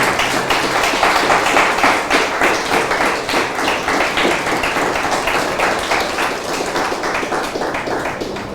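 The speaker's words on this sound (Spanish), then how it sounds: "denle el aplauso al Señor" A church congregation claps steadily and rhythmically during a Spanish-language service, loud and sustained for several seconds with no voices over it.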